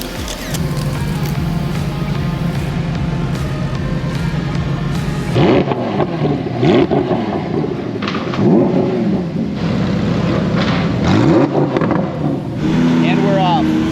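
A Lamborghini's engine roars steadily from inside the car as it pulls onto the highway, a loud low rumble with rising pitch sweeps in the second half, and a person talks over it.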